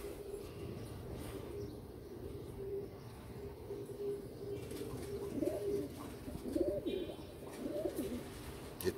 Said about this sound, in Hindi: ये देखो ये तीन कबूतर एक साथ पकड़े हैं हाथ में